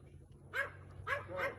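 A dog barks sharply three times at a large bear across a fence, the yips close and fairly loud over a low steady hum, with short gaps between barks.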